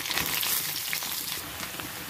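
Curry leaves and other ingredients for wheat rava upma fry in oil, giving a brief, even crackling sizzle with no voices.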